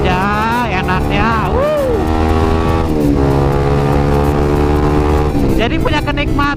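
A motorcycle fitted with a loud aftermarket knalpot brong exhaust rumbles steadily and loudly throughout, with someone talking over the engine.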